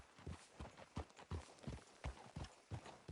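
A horse gallops in Red Dead Redemption 2, a steady rhythmic run of hoof thuds repeating about three times a second, fairly faint and with no talk.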